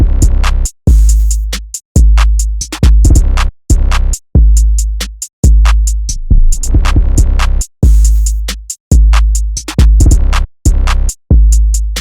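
Punchy FL Studio drum pattern with booming 808 bass, loud and bouncy, repeating in a steady loop with brief gaps between phrases and hi-hats ticking over the top; no voices.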